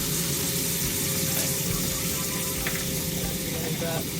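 Butter sizzles loudly and steadily in a frying pan on medium-low heat for asparagus, a dense continuous hiss with faint scraping and clinking near the end.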